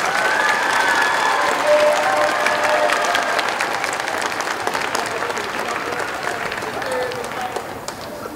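A large audience gives steady, loud applause for students at an elementary school 6th grade promotion ceremony, with crowd murmur and faint voices underneath, easing slightly toward the end.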